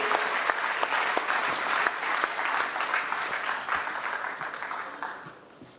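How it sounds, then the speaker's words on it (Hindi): An audience at a musical stage drama applauds enthusiastically as Sahir and Amrita appear together on stage, a thick wash of clapping that holds steady and then fades away toward the end. "अपनी जोरदार तालियों से इस मौके को यादगार बना दें।"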